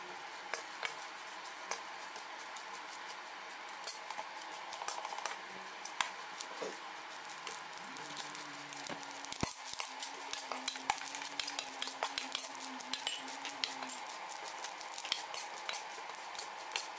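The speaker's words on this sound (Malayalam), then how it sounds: "നന്നായിട്ട് നമുക്ക് വറുത്തെടുക്കാം നമ്മുടെ ഈ നാളികേരമൊക്കെ" Grated coconut and curry leaves roast in a pan, with a steady soft sizzle, scraping stirs and sharp metallic clinks of a spoon against the pan throughout. No one speaks.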